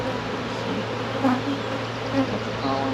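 Honey bees buzz steadily around an opened hive during a cold spring split, a close, sustained hum with a few louder passes near the microphone.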